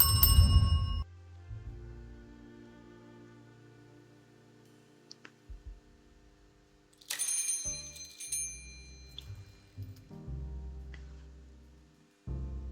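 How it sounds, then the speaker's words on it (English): A counter bell at a 1920s speakeasy bar in a video game clicks and dings, with several short metallic strikes over quiet background music. "click the bell on the counter to signal all customers leave and go home."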